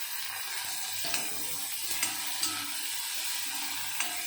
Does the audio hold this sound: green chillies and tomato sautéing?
yes